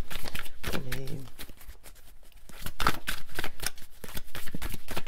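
Tarot cards are shuffled by hand for a reading, giving quick, close riffling and flicking bursts throughout. Someone talks over them.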